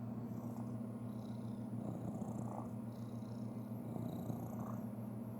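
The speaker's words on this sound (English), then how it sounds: "his purr is like a motorcycle" A cat purrs loudly and continuously up close, a deep rumbling drone that pulses steadily with each breath.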